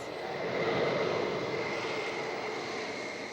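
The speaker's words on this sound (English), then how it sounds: "The jet swooped in just before 1 o'clock" A jet airliner comes in to land at Vancouver airport, a broad steady engine roar that swells slightly then holds, heard from a moderate distance with no voices over it.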